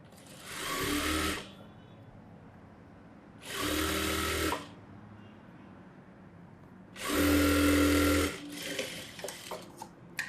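An electric sewing machine stitches a gathered pant seam in three separate bursts of fast, whirring needle action, the last one longest, with quiet pauses between them.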